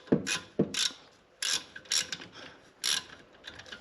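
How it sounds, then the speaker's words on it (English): A ratchet undoing the brake caliper bolts on a Mercedes-Benz W205 C450 AMG, heard as several separate bursts of quick clicking strokes, close and clear, with no talking. "Get these two bolts undone."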